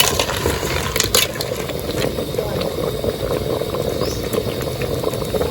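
A pot of Thai snail curry simmering, with continuous bubbling and gurgling at close range and a few sharp clicks on top.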